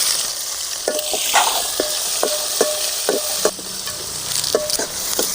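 Onions, cloves, cardamom, fennel and dried red chillies fry in oil for village-style egg biryani, a bright, continuous sizzle broken by sharp scraping stirs of a spoon in the pan every second or so, close and loud, with no voices.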